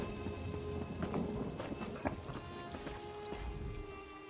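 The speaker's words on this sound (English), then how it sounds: "Oh no, it's raining." Rain falling in Elder Scrolls Online, a steady hiss of in-game rainfall layered with background game ambience and a few soft thuds, moderate and continuous throughout without any talking.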